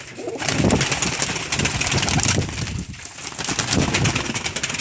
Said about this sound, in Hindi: ये भाई सेल के लिए सारे कबूतर हैं।